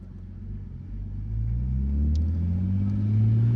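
Nissan Skyline R32 engine idling, then rumbling deeper as the car pulls away slowly, the low rumble swelling gradually and heard from inside the car without talk.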